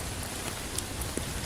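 Heavy rain falling on a forest campsite, a dense steady hiss of drops on surfaces with a few sharper individual drips, no talking.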